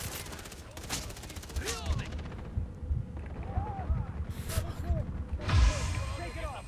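Gunfire in the Far Cry 3 video game, repeated shots and bursts with booming explosions, fairly loud and dense, while players talk over the action.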